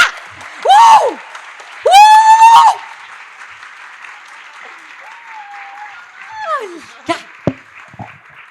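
An audience at a book launch in Recife applauds and cheers in steady clapping that fills the room, with loud whoops rising above it and a few voices near the end.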